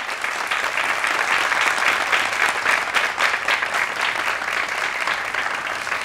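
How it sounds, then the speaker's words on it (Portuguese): A studio audience at a book talk at Sesc Vila Mariana applauds the guest author, steady dense clapping that holds at full loudness for about six seconds with no voices over it. "O público aplaude o convidado."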